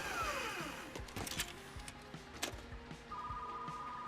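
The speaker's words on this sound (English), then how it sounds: "More phone calls already." A telephone rings in the video game Retro Rewind, giving a faint electronic ring with repeated tonal pulses over background game sounds and clicks, fairly quiet and with no speech.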